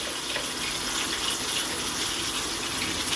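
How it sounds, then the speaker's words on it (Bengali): A little water poured into a grinder jar of fresh coriander leaves and green chillies before blending into a paste, a steady close splashing pour running the whole time without voices. "সামান্য জল দিয়ে দিলাম।"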